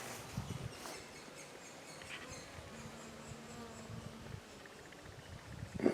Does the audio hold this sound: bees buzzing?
yes